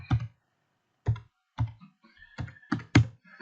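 Typing on a computer keyboard, a handful of distinct key clicks spaced irregularly, close and fairly quiet, with silence between strokes.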